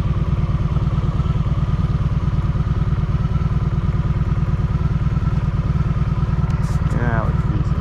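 Honda Magna VF750 V4 motorcycle running steadily, a close, loud, even engine throb with rapid firing pulses throughout, and a brief rising whine near the end.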